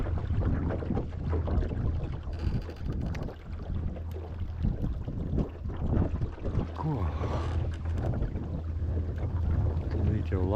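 Wind buffets the microphone continuously on the Lielupe river from a small fishing boat, a steady rumbling roar with water splashing and a short spoken word partway through.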